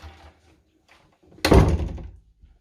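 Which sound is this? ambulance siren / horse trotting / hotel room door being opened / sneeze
hotel room door being opened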